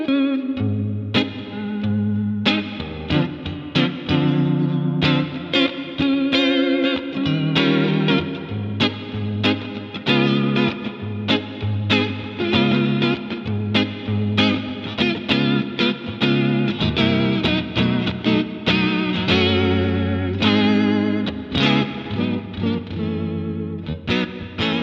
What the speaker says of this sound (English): So vibrato into reverb